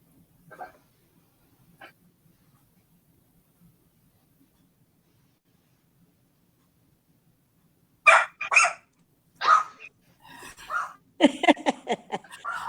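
A dog barks repeatedly through a remote video call during a city council meeting, a close cluster of sharp barks after a quiet stretch with faint voices earlier.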